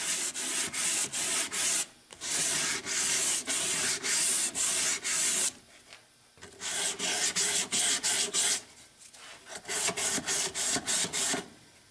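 Sandpaper is worked by hand along the wooden lid edges of a small chest, producing loud, close, rhythmic rasping strokes in quick bursts, each bout separated by a short pause.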